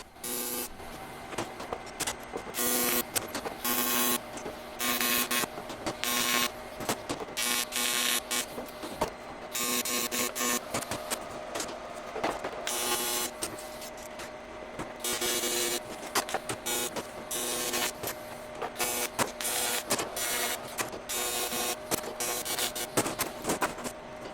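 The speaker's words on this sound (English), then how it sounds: "we're going to be able to weld this thing out" Steel panel being stitch welded in a workshop, heard as a harsh crackling buzz that starts and stops in short bursts over about twenty-five seconds, with a steady hum underneath and no speech.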